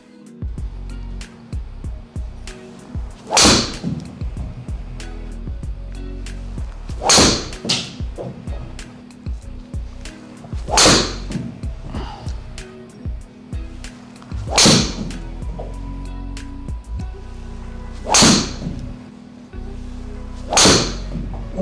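Sharp whooshing impacts of a golf driver striking a Tour Response Stripe golf ball, six hits spaced a few seconds apart against steady background noise.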